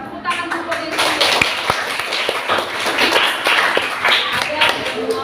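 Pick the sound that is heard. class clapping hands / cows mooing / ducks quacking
class clapping hands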